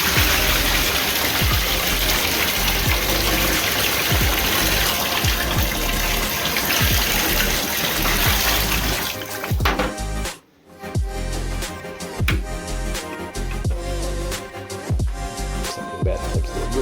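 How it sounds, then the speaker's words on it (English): Water from a Keystone KSTAD50B dehumidifier bucket dumped out in a steady, loud gushing pour that briefly breaks off, then resumes as splashing and trickling. "Let's go ahead and dump this out and see what it looks like."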